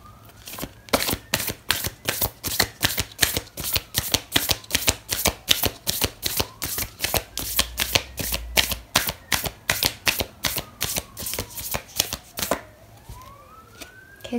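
Oracle cards shuffled during a love tarot reading, a rapid run of crisp riffling bursts repeating steadily for about twelve seconds, close and fairly loud, with no talking.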